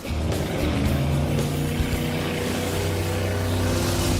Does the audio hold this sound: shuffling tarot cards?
no